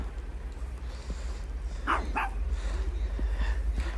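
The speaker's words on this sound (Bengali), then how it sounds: "এই যে কুত্তা আমার দিকে ঘে করতেছে" A dog gives two short barks at moderate distance in a snow-covered park in Moscow's Botanichesky Sad, over a steady low rumble of outdoor background noise.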